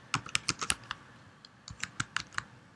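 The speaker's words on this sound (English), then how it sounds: "On OS X, I can do so by typing" Quick bursts of typing on a computer keyboard, close and crisp keystrokes in two clusters with a short pause between, with no voices.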